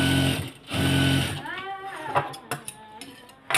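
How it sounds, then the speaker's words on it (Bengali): Sewing machine stitching a hijab, two fast bursts of mechanical whirring separated by a pause, then quieter clicks and handling sounds with someone talking briefly. "সেলাই করার সময় আমি এটার হুটের যে ক্যাপটা আছে সেই ক্যাপটা কেটে নিব তো এখন সিলাইতে চলে যাব"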